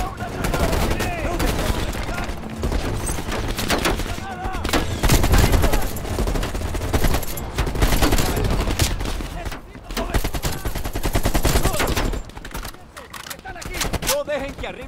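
In the video game Call of Duty: Black Ops Cold War, dense bursts of machine gun fire rattle almost nonstop, loud and close, layered with explosions and game sound effects.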